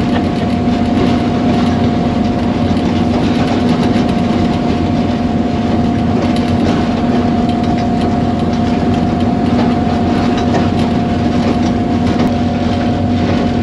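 A train passes on a rail line in Pakistan, a steady loud heavy rumble with a sustained engine hum and continuous wheel noise lasting throughout, with no talk.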